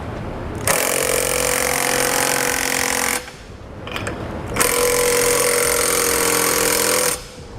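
A power tool with a 17mm socket drives the hex bolts of a Curt trailer hitch receiver on a 2013 vehicle, in two long, loud, buzzing runs of about two and a half seconds each, separated by a short pause.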